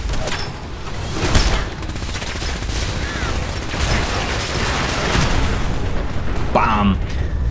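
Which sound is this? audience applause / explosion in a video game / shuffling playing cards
explosion in a video game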